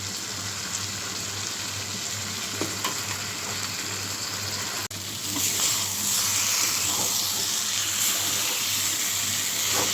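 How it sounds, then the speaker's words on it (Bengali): Goat liver and potato curry sizzles steadily in a pan as it is sautéed down in a little water, with a loud continuous frying hiss and a brief stir partway through. "এই জলের যতটুকু আছে এতটুকুর মধ্যে আমি কষিয়ে নেব"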